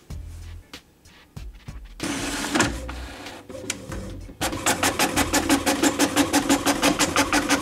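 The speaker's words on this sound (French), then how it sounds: "choisissez l'option impression brouillon, sinon l'encre risque de baver" An inkjet printer prints in draft mode on tracing paper, starting with scattered clicks and feed noises, then a burst of paper movement, followed by a fast, regular rhythmic shuttling of the print head, close and fairly loud.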